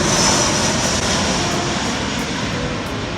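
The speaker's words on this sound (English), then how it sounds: "we can see planes that fly right over" An airplane flies right overhead near an airport by the bay, a loud steady engine roar that fills the whole clip without fading.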